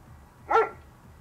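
A police dog in the video game Drug Dealer Simulator gives a single short bark at mid-distance over a low, quiet background hum.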